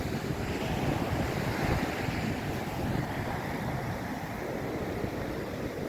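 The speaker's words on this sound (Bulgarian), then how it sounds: "Огромни вълни." Heavy Black Sea surf at Burgas roars continuously as large storm waves crash and churn, with gusty wind buffeting the microphone throughout.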